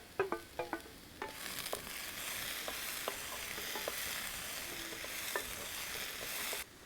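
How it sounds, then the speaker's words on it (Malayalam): Bilimbi sautéing in a pan for a thoran: a steady, fairly quiet frying sizzle with occasional light clinks and scrapes of a stirring spoon, which stops abruptly near the end. "പുളിച്ചിക്കയിട്ട് വശക്കാം."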